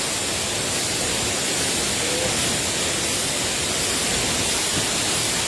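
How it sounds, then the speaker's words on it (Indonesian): Constant roaring rush of falling water at Efrata waterfall in Samosir, Indonesia, loud and unbroken throughout, like standing close to a waterfall. "Ayo berkunjung ke air terjun Eprata di Kabupaten Samosir"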